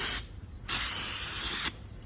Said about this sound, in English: We'll clean off the rotor with some brake cleaner and just spray it